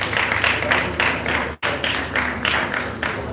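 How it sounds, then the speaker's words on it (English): An audience applauding at a live official ceremony, a dense steady wash of many hands clapping close and loud, with a brief cut midway before the clapping continues. "a round of applause for her"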